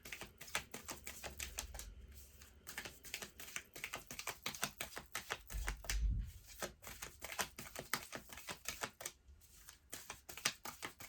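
Stiff, brand-new tarot cards being shuffled by hand, giving dense rapid riffling clicks and flutters close up, in quick bursts with brief pauses and one heavier thump of the deck being squared.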